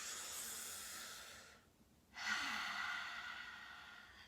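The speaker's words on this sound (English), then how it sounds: "Take a big breath up." A deep breath drawn in during a yoga class, a long airy inhale that pauses briefly and is followed by a second soft breathy rush, close and quiet with no speech.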